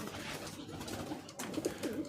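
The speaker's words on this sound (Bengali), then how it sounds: "কত সুন্দর কবুতরগুলো" Pigeons coo softly in a pigeon farm that houses a few hundred birds, a steady mix of low throaty calls and rustling, with a few clearer coos rising near the end.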